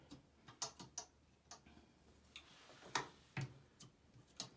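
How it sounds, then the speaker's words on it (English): Socket wrench ratcheting while removing a toilet seat: irregular clicking ticks, close and quiet, repeated in short runs with small gaps. "I think it's a socket wrench."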